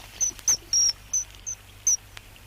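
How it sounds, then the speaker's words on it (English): A pair of kingfishers calling near water, six short high-pitched piping calls spaced irregularly over a faint steady background hum, with no talking. "here's a recording of kingfishers made by Rose Eastman"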